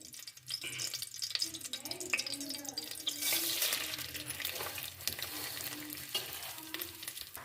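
Vermicelli frying in melted desi ghee for a sweet seviyan dish, stirred in the pan: a steady close sizzle with soft scraping and stirring throughout, and faint talk in the background.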